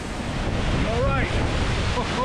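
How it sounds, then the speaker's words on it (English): A waterfall roars inside a cavern in Iceland, producing a constant, dense rushing wash, with a brief voice faintly audible beneath the noise. "I'm inside, right underneath this waterfall."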